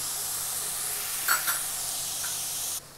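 Onions fry and slowly caramelize in a pan for an East Indian prawns chilly fry, giving a steady soft sizzling hiss with a couple of brief stirring swells before the sound drops off.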